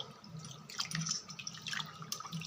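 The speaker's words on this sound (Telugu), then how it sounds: "ఒకసారి ఇలా బాగా కడిగేసుకొని చేతితో" Soaked little millets rinsed by hand in a bowl of water, giving soft, close splashes and drips that come in uneven bursts, quiet and alone.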